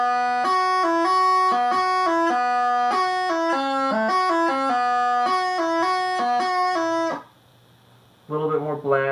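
Highland bagpipes play a plain melody without grace notes over a steady drone. The notes come loud and continuous for about seven seconds, then the pipes stop, and a short burst of sound comes near the end.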